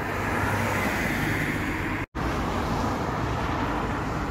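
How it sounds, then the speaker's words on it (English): Continuous road traffic on the A259 seafront road, a steady roar of passing cars with heavy low rumble, broken only by a brief dropout midway. "I apologise for the traffic noise, but we are right on the seafront on the A259"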